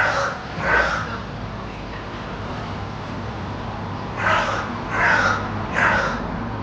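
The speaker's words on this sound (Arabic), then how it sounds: "أحس إنه غراب الصوت" Crow cawing from outside near a balcony, heard as a few separate harsh calls, a pair early on and a cluster of three later, fairly distant over a steady low background hum.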